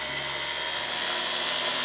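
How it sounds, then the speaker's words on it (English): Power sanding with a Fordham sanding attachment, smoothing saw marks off the flat back of a turned wooden fridge magnet: a steady, loud, continuous high whirring grind with no pauses. "So now we're going to sand these flat on the back."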